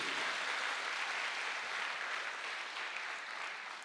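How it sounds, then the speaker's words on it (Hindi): Sustained applause from an audience at a health awareness program, a steady, even wash of clapping that fills the clip at moderate level and tapers slightly toward the end, with no talk over it. "एक जोरदार तालियां होनी चाहिए हमारे नए गेस्ट के लिए"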